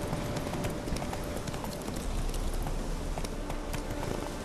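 Galloping horse hooves from The Witcher 3: Wild Hunt sound as a steady, fast clip-clop rhythm, close and continuous over a dense ambient game bed.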